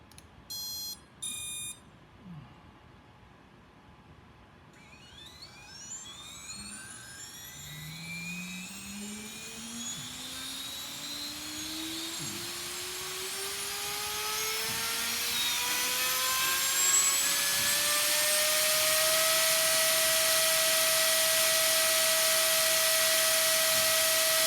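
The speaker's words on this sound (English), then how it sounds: "So we're going to run this motor now." A Cyclone FPV drone motor runs on a test bench: a few startup beeps, then a whine that climbs steadily in pitch as it spins up, settling into a loud sustained high-speed scream, no talking.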